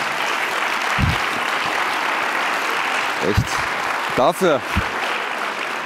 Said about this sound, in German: Dafür gibt es Applaus